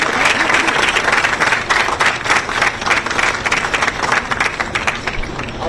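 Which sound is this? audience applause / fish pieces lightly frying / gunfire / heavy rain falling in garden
audience applause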